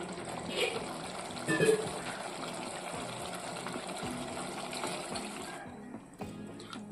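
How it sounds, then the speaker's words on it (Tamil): Water pours steadily into a simmering pot of sardine fish curry with raw mango, a continuous gushing wash that fades out near the end. "இந்த நேரத்தில் வந்து நம்ம இந்த மீன் குழம்புக்கு தேவையான தண்ணி சேர்த்துக்குவோம்"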